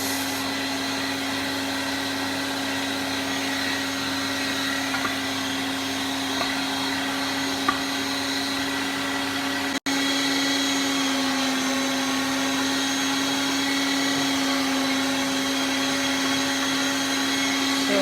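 An electric grinder whirs steadily as it grinds rice and potatoes for Khooba cheese. The motor hums loud and continuous, with one brief cutoff partway through before it restarts.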